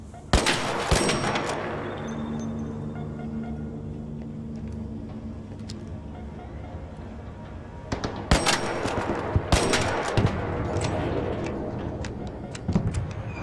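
Gunfire aimed at ARC machine enemies in the video game Arc Raiders: loud, cracking shots open the scene, then a steady mechanical rumble, with fresh bursts of rapid fire after eight seconds and again near the end.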